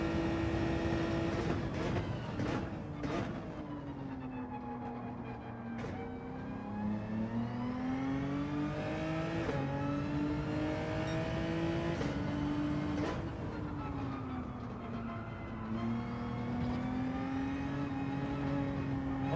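A race car in Gran Turismo 7 roars around a track, its engine note climbing and dropping steadily through gear changes for a continuous stretch, loud and close with no talk.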